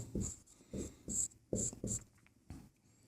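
A pen writes out a maths solution on paper in a run of short, close scratching strokes, about six distinct bursts with brief pauses between them, and no talking.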